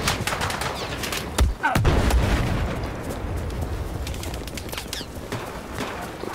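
Gunfire in the Battlefield 4 video game during a Singapore mission: a dense, continuous barrage of shots with heavier bursts around the middle, loud and steady throughout with no talking.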